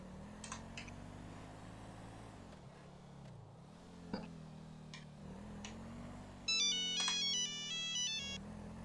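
A phone rings during an in-game call in GTA V FiveM, a short electronic ringtone melody entering near the end over a low steady engine-like hum, fairly faint and with no talking.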